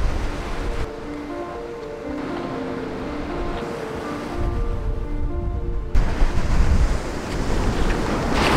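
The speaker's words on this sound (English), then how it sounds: "So where the water's breaking now," Sea waves break on a shallow rocky reef, a continuous washing surge with a louder wave crashing in near the end, heard alone with no talk.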